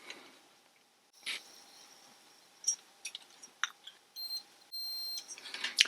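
A multimeter continuity tester checking the terminals and points of a Lucas 9H horn from a 1970 Triumph Herald 13/60 gives short, sharp electronic beeps, several in a quick uneven sequence, with one held a little longer, over a quiet room.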